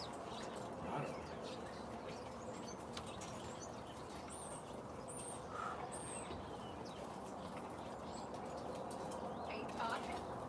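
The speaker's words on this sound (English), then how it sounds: "Oh, I hear birds." Birds call and coo softly in a quiet outdoor setting, with a few faint chirps scattered over a low, steady background hush.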